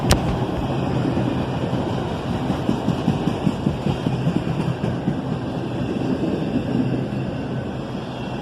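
A CSX auto-rack freight train of empty cars rolls past nearby, a loud continuous rumble and rattle of wheels and car bodies with no voices.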